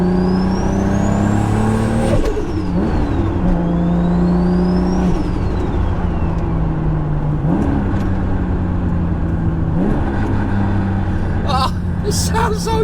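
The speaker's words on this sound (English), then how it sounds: "let's listen to the engine" A 1000 hp Toyota Supra with a 3.4-litre engine revs hard and loud, its pitch climbing and falling through repeated rev sweeps with brief dips between, close up and continuous, with no talking over it.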